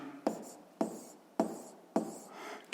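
Chalk or pen strokes on a board as a physics formula is written out by hand, four distinct scratchy strokes in an even rhythm, close and fairly quiet, with no talk.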